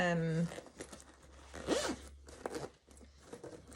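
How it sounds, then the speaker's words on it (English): Zipper heads being pulled along the zips of a freshly sewn fabric bag, giving a few short rasping zips up close, mixed in with a person talking and low steady background hum. "I put these zipper heads on, because I wanted to be able to put something in them so I can pull the zips back at once."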